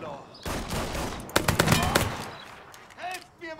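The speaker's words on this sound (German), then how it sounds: "der auf mich feuert, feuert die ganze Zeit in die Hütte rein" Gunfire in the video game Mafia 3: a burst of rapid automatic shots followed by a louder cluster of sharp, repeated cracks, then a quieter tail.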